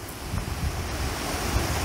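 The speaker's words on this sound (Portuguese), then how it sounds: "bastante vento aqui" Strong wind blows steadily outdoors, a continuous broadband rush with heavy low rumble from buffeting against the microphone, loud and unbroken throughout.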